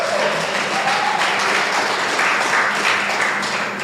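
Conference audience at the SKN Diaspora Conference claps in response to the host, a full, even burst of applause filling the room for several seconds.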